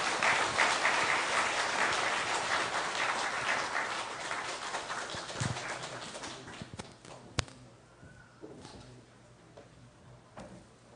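Warm applause from a church congregation during an ordination thanksgiving service, loud sustained clapping that gradually thins and fades away, followed by a sharp knock and quiet room noise.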